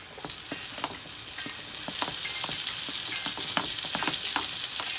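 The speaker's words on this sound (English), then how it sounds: "now we're gonna go ahead and put the tomato in" Tomato hits frying Jamaican-style curry shrimp in a pan, and a loud, constant sizzle follows with regular spoon stirs clicking through it.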